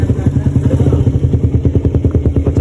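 Motorcycle engine idling steadily after a carburetor repair on a Suzuki Satria FU, a close, loud, even pulsing putter with light mechanical clatter and no voices.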